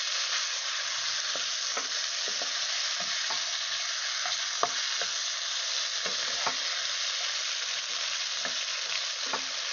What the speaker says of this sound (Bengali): এবার ভেন্ডিগুলো দিয়ে দেবো, ভাজা ভেন্ডিগুলো। এরপর আমি ভালো মতন মিক্স করে নেব।